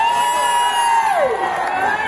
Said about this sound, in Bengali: জোরে একটা হাততালি হয়ে যায়